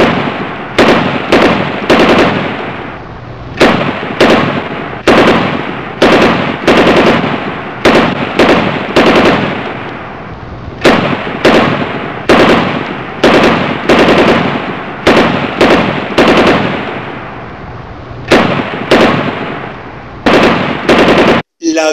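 Automatic gunfire rattles in loud, rapid bursts, one after another with short pauses between them, repeating steadily for over twenty seconds.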